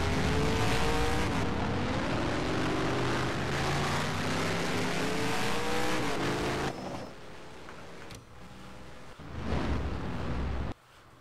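A stock car engine from the NR2003 racing game in an Advance Auto Parts 200 race, a loud, steady high-revving drone with shifting pitch that cuts abruptly to quieter track noise, then surges briefly before stopping.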